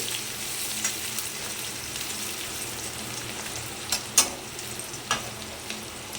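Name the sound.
onions frying in a pan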